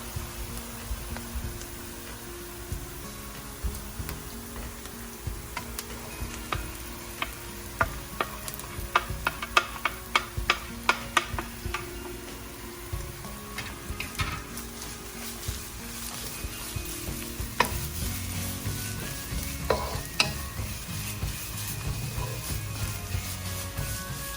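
Grated coconut stirred into sautéed onion, ginger, garlic and curry leaves for a Kerala mushroom thoran, with a low steady sizzle and repeated scraping, tapping spatula strokes against the pan, close and unbroken by speech.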